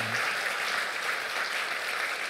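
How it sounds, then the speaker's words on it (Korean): A church congregation claps together during a Sunday service, a steady, dense wash of applause that fills the room evenly from start to finish with no voices over it. "그 주님께 우리가 축하하는 박수를 한번 올려드리면 좋겠습니다."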